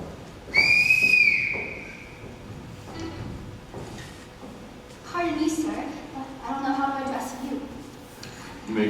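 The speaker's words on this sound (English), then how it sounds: "I forgot to return this whistle, Captain." A whistle is blown in one bright, sustained blast during a high school stage production, heard near and loud before people speak and move on stage.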